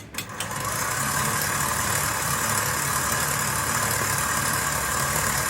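An electric mixer runs steadily at medium speed, beating eggs as coconut oil is slowly added for a carrot cake batter, a continuous loud motor whir after a brief start.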